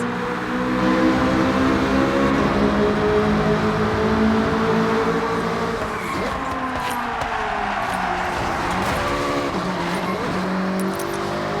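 Car engines roar continuously in the Forza Horizon 6 racing game, loud, close and sustained, with shifting revs, gear changes and a bit of tire noise throughout.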